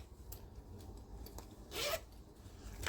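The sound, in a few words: zippers on a thrifted bag being tested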